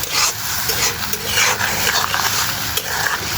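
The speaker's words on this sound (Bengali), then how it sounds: "এখানে লবণ, হলুদের গুঁড়া, মরিচের গুঁড়া দিয়ে দিয়েছি। ভালোভাবে এটাকে কষাবো।" Spiced fish masala with salt, turmeric and chili powder fries in a pan while being stirred, a loud continuous sizzle with scraping strokes close up and no talking.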